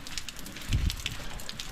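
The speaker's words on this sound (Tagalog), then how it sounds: "Ngayon hindi naman masyadong malakas ang ulan, no?" Soft, light rain pattering steadily, with a brief low rumble partway through.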